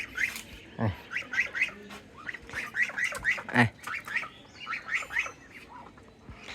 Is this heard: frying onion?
no